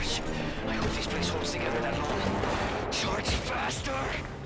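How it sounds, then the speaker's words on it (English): A dense, continuous barrage of crashing blasts and rumbling booms in Halo Infinite, loud and chaotic, with game-like impacts piling on top of each other. "Oh, that was a lot of explosions."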